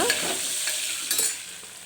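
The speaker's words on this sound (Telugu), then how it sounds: "ఒక ఎండుమిర్చి, తాలింపు గింజలు, ఆనియను, కరివేపాకు వేసేసుకొని బాగా ఫ్రై అవనిచ్చి" Steady sizzling of dried red chili, seasoning seeds, onion and curry leaves frying in hot oil, with a few brief louder crackles and spits over a continuous hiss.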